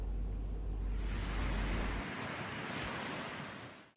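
Sea waves wash onto the Karetta turtle nesting beach at Yeşilöz, Alanya, a steady broad roar of surf with some wind noise on the microphone, loud and continuous throughout before easing slightly at the end.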